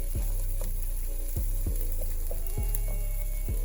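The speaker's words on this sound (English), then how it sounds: "You just want to saute those just for a few minutes." Diced jalapenos and red pepper sautéing in a pan, a steady close sizzle with several sharp stirring scrapes and knocks spaced through it, no voices.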